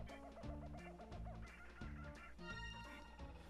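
A bird honks repeatedly in the video game Space Station Silicon Valley, with rhythmic goose-like honks over a looping game music track, loud and clear with no talk.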